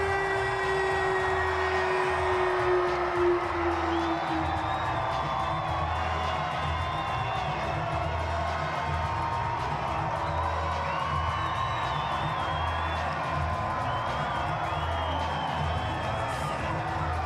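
Crowd at a Banana Ball baseball game roars with sustained cheering and screaming, dense and loud throughout, with a low rhythmic pulse underneath.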